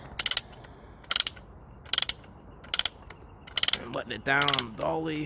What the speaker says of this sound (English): this is just a chain that feeds through a pulley, and you just crank it.